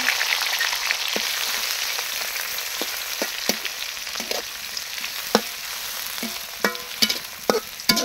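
Chopped onion frying in a pan gives a loud, continuous sizzle, with scattered sharp clicks and scrapes of stirring that grow more frequent toward the end.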